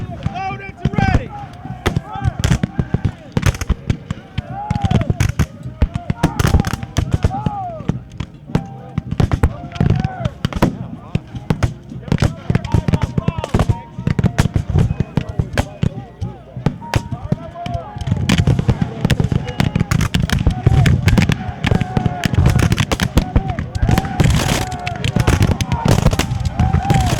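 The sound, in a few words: musket and artillery fire at Civil War battle reenactment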